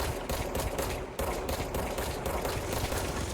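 Dense gunfire from the video game Control rattles on continuously and loudly with no pauses, a sustained burst of shots fired at a shielded enemy.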